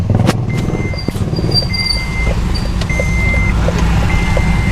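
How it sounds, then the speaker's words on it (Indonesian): A Toyota FJ Cruiser's seatbelt warning chime sounds in short, evenly spaced tones over a steady engine hum, repeating several times at a regular rhythm. "ini nih ada peringatan karena saya tidak pakai safety belt ya"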